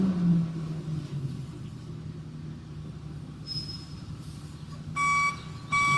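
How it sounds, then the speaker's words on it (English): A garbage truck rumbles at a distance with a low engine drone, then its reversing alarm sounds as a few short, high, faint beeps near the end. "there goes the garbage truck"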